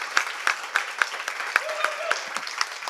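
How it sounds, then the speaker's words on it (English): Applause from a modest crowd at the close of a game jam event on citizens' assemblies, steady clapping with a few louder individual claps standing out, heard close and continuing throughout. "Can I get one last round of applause for Jamie as well?"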